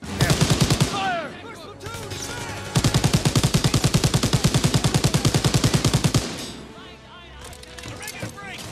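Rapid bursts of automatic gunfire from a World War II shooter video game, loud and rhythmic, firing in two sustained volleys with shouted voices in between and quieter battle noise after.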